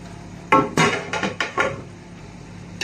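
A metal spatula knocks and scrapes against a pan while whole spices (bay leaf, cinnamon, cloves and cardamom) are stir-fried for a chicken and mung dal dish, giving about five sharp, close clanks in quick succession and then a quieter pause.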